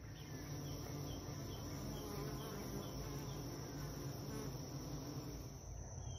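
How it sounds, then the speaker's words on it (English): A dense, continuous buzz of a honey bee swarm moving into a swarm trap box nearby, steady and unbroken throughout. "So this is the third day in a row bees have been at this box."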